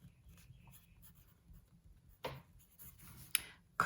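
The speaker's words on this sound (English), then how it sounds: "I'm going to start by writing 4 things" A grey lead pencil writing on a worksheet, quiet scratchy strokes up close, with a few louder rubs and taps near the end and no speech.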